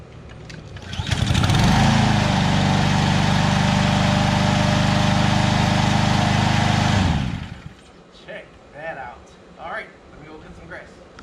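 A Craftsman 140 lawn mower with a Honda Easy Start engine fires up after a short pull and runs loud and steady close by for several seconds, then cuts off, followed by someone speaking.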